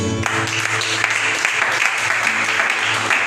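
A church congregation breaks into loud, dense applause that carries on steadily throughout, with no clear talk over it.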